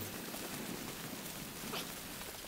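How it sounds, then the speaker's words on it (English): Soft rain patters evenly in the video game Death Stranding, a faint, continuous hiss with no talking over it. "First of all, we've got to hide from this rain."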